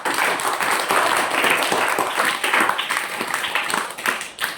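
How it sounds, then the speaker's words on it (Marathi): Audience applause at a talk on a Buddhist conception ritual: a dense, steady wash of many hands clapping together, loud and close, lasting the whole stretch without any voices. "त्यांच्यासाठी जोरदार टाळ्या वाजवा"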